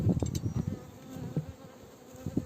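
Honey bees from a ten-frame hive hum and buzz close by, a low, wavering drone with brief swells as individual bees pass near.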